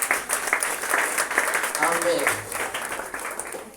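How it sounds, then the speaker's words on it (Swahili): A church congregation claps together in a sustained, rhythmic patter while a voice speaks over it. "Pigieni huyo mama makofi."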